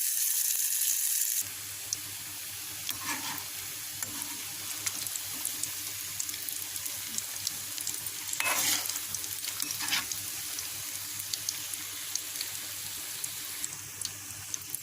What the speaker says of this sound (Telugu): ఆయిల్ కాగేసింది. వడలు వేసేసుకుందాం.